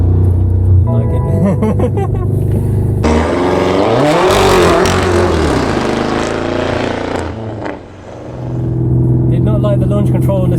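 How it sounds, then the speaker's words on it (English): A BMW F90 M5 with Stage 2 tuning and methanol injection does a launch-control start with traction off: loud, close engine held at revs, then a surging full-throttle acceleration with a brief dip around a gear change, and talk over it. "so we should be able to do a launch control now"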